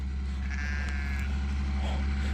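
Sheep bleating at a rural camp with a dog and truck nearby, a few wavering bleats over a steady low rumble and background hum, no talking.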